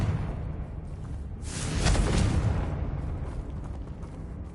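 Confringo fire spell blast in the Hogwarts Legacy video game, a single loud burst of explosive boom swelling and fading over a few seconds amid ambient game noise.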